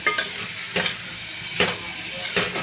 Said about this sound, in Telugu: ఈ ఉల్లిపాయలు అనేది అయితే ఫ్రై చేసుకోవాలండి ఎర్రగయ్యే అయ్యే వరకు